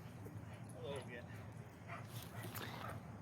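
Small dogs yip and bark with some whimpering at a public small-dog park, scattered short calls under steady background chatter from people talking nearby.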